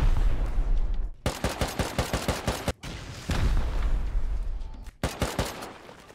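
Heavy, loud bursts of explosive weapon fire, like rockets or rapid gunfire striking a wall in a pixel-style shooter, come in several rapid volleys separated by short silent gaps.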